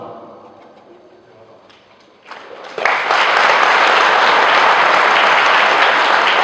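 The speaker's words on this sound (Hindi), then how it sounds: "ये ताली की बात नहीं है।" An audience at a poetry recital breaks into loud, sustained applause that rises suddenly and fills the space after a quieter stretch of murmuring.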